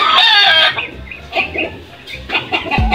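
A Sweater Hatch gamecock rooster clucks close up in a few quick, throaty bursts with short gaps between them.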